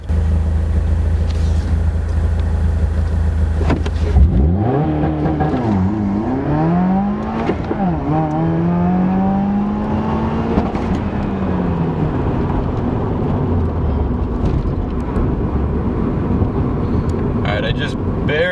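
Tuned 2017 Subaru WRX accelerating hard in a 0-60 run, engine climbing through gears with rising revs near redline, loud and close from inside the car, with a voice talking over it.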